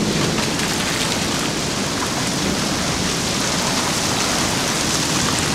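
Heavy rain pours in a steady, dense roar during a thunderstorm with a tornado nearby, loud and continuous with a low rumble underneath and no speech.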